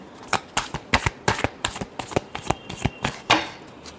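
Tarot cards being shuffled by hand, a rapid run of crisp riffling flicks and slaps in close succession, close and fairly loud with no talking.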